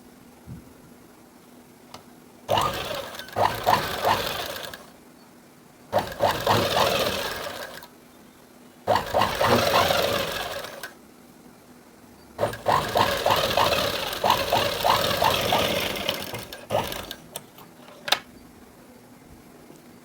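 An electric sewing machine stitches cloth in four runs of rapid, rattling ticks, each lasting a few seconds, with quiet pauses between them and a faint steady hum underneath.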